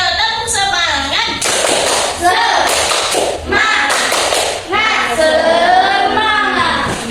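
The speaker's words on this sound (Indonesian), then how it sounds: "Kita tepuk semangat lebih dahulu ya" A primary school class claps out a rhythmic spirit cheer, with bursts of group clapping and taps mixed with children's chanting voices in a classroom.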